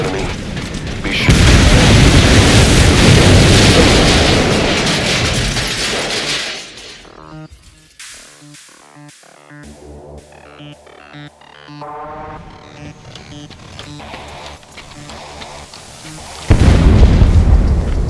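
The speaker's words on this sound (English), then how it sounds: "Though security will be tighter after that explosion." A C4 charge detonates in Metal Gear Solid V, blowing up a separator tank: a loud, sustained blast with rumbling debris, then a quieter stretch of clattering and shifting sounds, before a second loud burst near the end.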